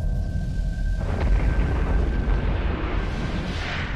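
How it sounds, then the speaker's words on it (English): A cartoon explosion bursts with a deep roaring boom that rumbles on for several seconds and slowly fades, loud and alone apart from a faint steady tone early on. "Explosion."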